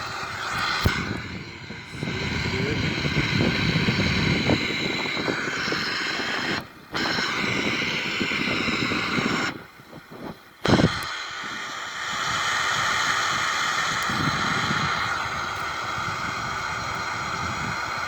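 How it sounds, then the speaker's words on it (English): Steady broadband roar of an airliner cabin at cruising altitude, about 35,000 feet, with jet engine rumble filling the space and brief dropouts and clicks partway through. "so here we are, it's our cruising altitude right now."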